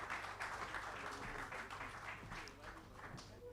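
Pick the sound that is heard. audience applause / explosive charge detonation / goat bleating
audience applause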